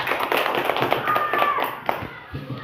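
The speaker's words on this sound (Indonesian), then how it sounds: "Tepuk tangan dulu untuk Raka." A classroom of sixth-grade pupils clapping together in a short burst of applause, steady and dense for a couple of seconds before fading.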